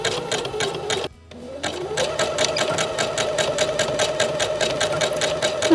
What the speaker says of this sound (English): Now I'm just going to sew over that end bit a couple of times to make sure it doesn't go anywhere.